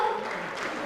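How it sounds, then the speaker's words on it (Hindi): Audience applause, a brief wash of steady clapping from a crowd. "करताली संबोधन करंतु दर्शक बंधु"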